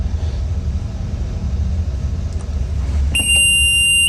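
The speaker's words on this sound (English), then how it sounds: "And there's our barrel rotation alarm muted." A plating barrel's rotation failure alarm starts sounding over a low industrial rumble, a steady high-pitched electronic tone arriving near the end and holding continuously, loud and close.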